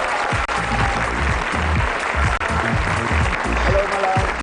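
A large indoor audience at a motivational business seminar applauds to welcome a speaker, with dense, loud, continuous clapping that holds steady throughout, alone and without talk.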